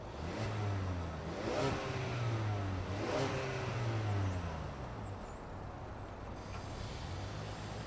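Ford Maverick Lariat pickup engine running steadily nearby, with a few rising revs early on before settling into an even drone.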